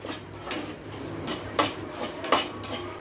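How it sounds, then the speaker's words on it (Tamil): About a hundred grams of coriander seeds are dry-roasted in a pan for sambar powder, with steady soft rattling and rustling and a few sharper scrapes of the stirring spoon against the metal. "இப்போ நம்ம நூறு கிராம் அளவுக்கு மல்லி வறுத்துக்கிட்டு இருக்கோம்"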